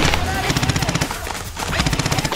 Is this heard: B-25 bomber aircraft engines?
no